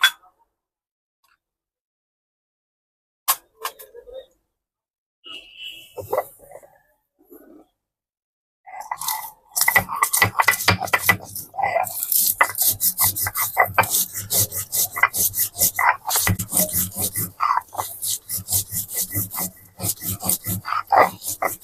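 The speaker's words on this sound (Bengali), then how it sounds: "এগুলো সব আমরা একবারে বেটে নেবো" Green chillies, ginger and onion are ground together into a paste, starting after quiet and a few faint knocks, then becoming a steady, loud rhythmic rasping and rubbing that continues to the end.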